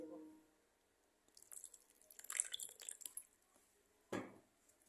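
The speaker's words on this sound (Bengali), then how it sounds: "জল দিয়ে আমি এটাকে এখন ভালোভাবে নাড়াবো।" Flour dough mixed by hand with water and jaggery for a Christmas cake gives soft wet squishes and sticky slaps, close and faint, in a short irregular cluster with a louder squelch near the end and no voices.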